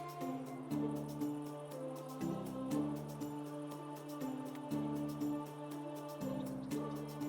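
Steady synthetic rain in the video game Medieval Dynasty patters continuously over soft looping background music, a light, even drizzle with occasional drip-like ticks.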